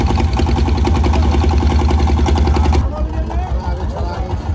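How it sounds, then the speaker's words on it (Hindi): A boat engine on a Brahmaputra river crossing chugs in a loud, rapid, regular knocking rhythm for nearly three seconds, then cuts off abruptly, leaving softer water and background noise. "इंजन स्टार्ट कर रहे हैं।"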